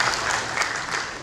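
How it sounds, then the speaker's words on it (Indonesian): Dense, steady applause from a seminar audience at a book launch on Reog Ponorogo performance fills the room, close and continuous throughout. "Jadi kita tepuk tangan dan terima kasih karena ruang ini memberikan peta baru untuk melihat ke depan"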